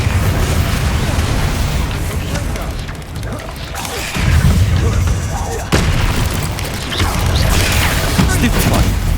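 Bombarda spell explosions in the Hogwarts Legacy video game, heavy booming blasts that surge in bursts with rumbling debris, loud and close, a brief drop near the middle, voice chatter underneath.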